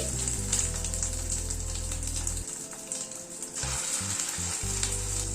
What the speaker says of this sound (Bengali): কড়াইতে হোয়াইট অয়েল বসিয়েছি, তেলটা গরম হয়ে এসছে। এক এক করে চিকেন গুলো ছেড়ে দিচ্ছি।